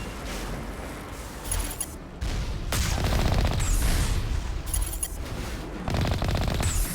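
Automated turret fire in Mass Effect 1 Legendary Edition during a Geth incursion, dense rapid bursts of gunfire and booms in several loud stretches separated by brief lulls, with no voices.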